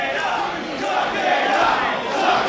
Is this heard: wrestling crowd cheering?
yes